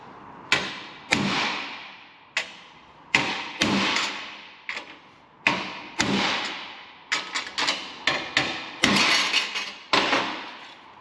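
Sharp metallic strikes of a hammer on a chisel denting a metal repair panel for a Ford Transit van, in irregular bursts with brief ringing decays, some blows coming in quick runs, close by.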